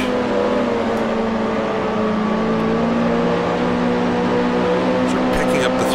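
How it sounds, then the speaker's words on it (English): A 1968 Formula 2 race car in Grand Prix Legends at Thruxton, its engine droning at high revs with a steady, sustained tone that shifts slightly in pitch. "Over revving the car a bit"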